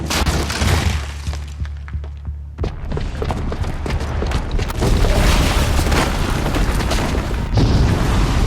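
A bomb explodes in Horizon Zero Dawn, with heavy booming blasts and shattering debris rolling on continuously, a short lull near the start, then a dense, loud crashing that sustains to the end.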